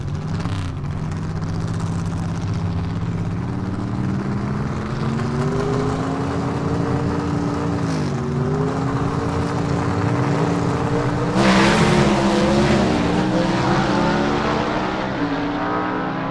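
Gasser drag race cars in the B-Gas class at South Georgia Motorsports Park, including a 1948 Anglia, roar down the strip with steady loud engine drone, pitch climbing through the run and a fresh louder burst near the end, no talk.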